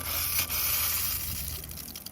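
Water running steadily from the shower faucet aboard a Back Cove 37 boat while its fresh water system is winterized, a broad, constant hiss with a brief sputter near the start.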